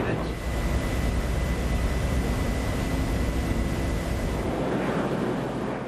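Jet engine noise from an X-36 unmanned, pilotless test aircraft in flight: a steady, broad roar with wind buffeting, continuous and fairly loud throughout.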